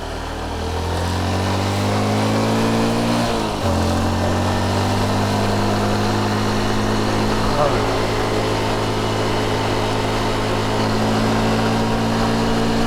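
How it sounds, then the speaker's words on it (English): A motorbike engine drones steadily up close while riding in tropical Lombok, with a low harmonic hum that shifts pitch briefly as the revs change, then holds an even, continuous roar under wind noise. "Feels so good to be on a motorbike in a tropical climate like this"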